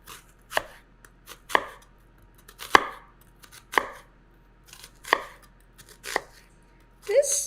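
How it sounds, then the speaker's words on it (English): A knife slices thinly through an onion on a board, about seven crisp, evenly spaced chops standing out close and clear against quiet. "just then slice it thinly towards the head of the onion"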